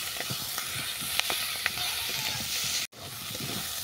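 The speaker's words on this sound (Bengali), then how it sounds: "হলুদ, ঘিমে শাক দিয়ে আমি আরও কিছুক্ষণ এটাকে ভেজে নেব" Ghime greens with turmeric frying in a pan for a bitter puti fish chorchori, making a steady, moderately loud sizzle with faint stirring clicks and a brief dropout near the end.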